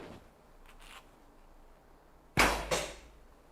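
An arrow is loosed from an SAS Scout survival bow with no silencing, giving a sharp, loud snap and whoosh followed moments later by a second crack, after a quiet stretch with faint handling noises.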